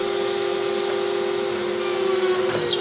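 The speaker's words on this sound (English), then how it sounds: "We're going to turn on our dust control" A dust collection vacuum runs for a TSM-22 pocket cutter, giving a loud, steady, close roar with a constant whine. A brief higher hiss comes near the end.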